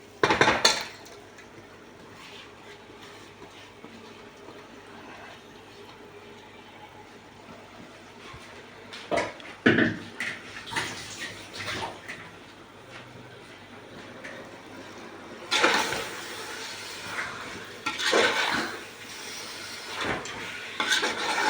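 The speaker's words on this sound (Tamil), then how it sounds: "இந்த சிக்கனை நம்ம வந்து இப்போ இதில் சேர்த்துக்கலாம்" Marinated chicken going into a biryani pot for a basmati rice biryani, with quiet clinks, scrapes and clattering bursts of utensil against metal cookware between calmer stretches.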